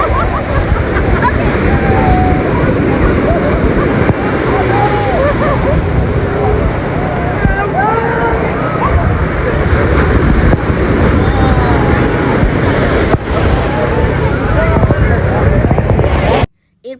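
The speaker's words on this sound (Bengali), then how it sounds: "আর ঢেউয়ের শব্দটা তোমাদেরকে শোনাচ্ছি" Sea waves roll onto Cox's Bazar beach in a loud, unbroken roar of surf, heavily buffeted by wind rumbling across the microphone.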